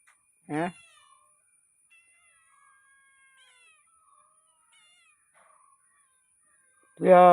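Two loud, close cat meows while cats wait for a fish seller, one near the start and one at the end, with faint, distant mewing in between.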